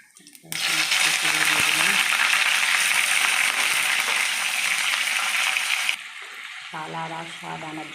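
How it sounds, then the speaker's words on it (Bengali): Bay leaf and cumin seeds dropped into hot oil burst into a loud, bright sizzle that holds steady for several seconds, then drops to a quieter crackle with a voice speaking over it. "আমার তেল গরম হয়ে গেছে, তেজপাতা দিলাম, সাদা জিরে ফোড়ন দিলাম"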